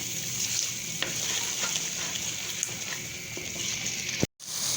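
A chickpea and egg curry masala with black pepper being stirred in a pan, a soft steady sizzle with scattered scraping clicks of the spoon, fairly quiet, ending in a brief sharp knock.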